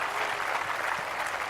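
Wimbledon crowd at a 2006 second-round match between Fernando González and Marat Safin, applauding steadily as a broad, even wash of clapping from many hands, sustained without a break.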